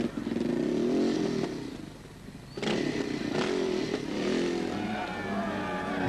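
A Honda rally motorcycle races in the 1983 Dakar rally, its engine loud and near, revving up and down with a sharp surge midway amid some clattering and scraping.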